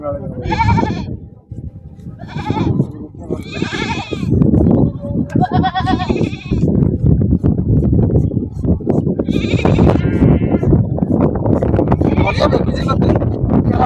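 Barbari goats bleat loudly and repeatedly at a goat sale, several overlapping calls near at hand, over continuous chatter and shuffling noise.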